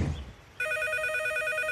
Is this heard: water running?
no